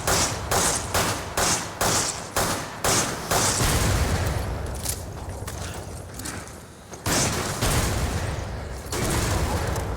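Rapid bursts of gunfire from Resident Evil 5 gameplay crack out in a quick rhythmic series, then give way to a dense, roaring rumble of heavy fire and noise, with a few more sharp shots near the end.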